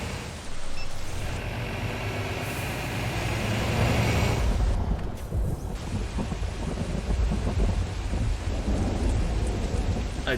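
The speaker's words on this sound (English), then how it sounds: "I do like the thunder effects when you're in the outside view." A thunderstorm in Euro Truck Simulator 2, heard from the outside view of a truck, brings steady heavy rain with long rolling thunder rumbles that build and crackle across the whole stretch, with no talking.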